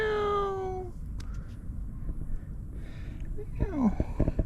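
A cat gives a drawn-out meow at the start, followed by quieter rustling and a second short, rising meow near the end, close to the microphone.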